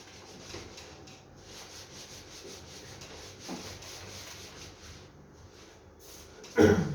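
Continuous rubbing and wiping against a classroom board as writing is erased, a steady scratchy swish at moderate level with a brief louder knock near the end, no talking.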